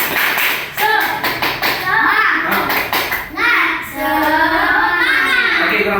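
Schoolchildren in a fourth-grade classroom doing the rhythmic 'tepuk semangat' clap, sharp close handclaps in patterned bursts mixed with children's chanting voices.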